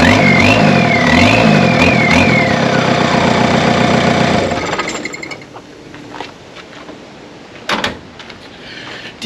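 A Volkswagen Caddy's turbo diesel TDI engine runs loud and rough with a rising turbo whine, then cuts off and settles into quiet with a faint clunk.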